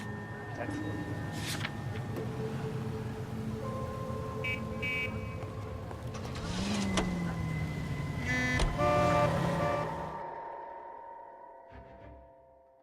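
A car drives in L.A. Noire with a steady engine drone and shifting tones as it rolls along, under occasional talk, then cuts out at the end.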